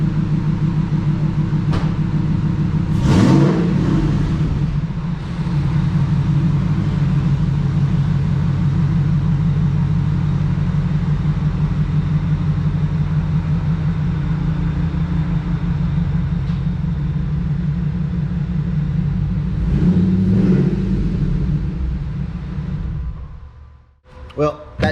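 Pickup truck engine idling steadily for a long stretch, close and loud with a low rumble, with a couple of short revs early on and near the end before it cuts off.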